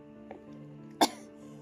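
A single sharp cough rings out close by, preceded by a faint throat sound, over a quiet humming background.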